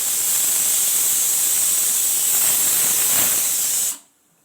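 A pressure cooker lets off a loud, steady whistle of hissing steam in a home kitchen, running continuously for about four seconds before cutting off abruptly.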